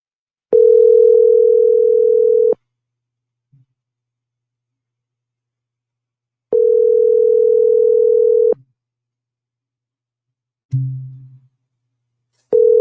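Telephone ringback tone on an unanswered call during a courtroom session: two loud, steady two-second tones about four seconds apart, followed by a short lower click-like burst and the start of another tone.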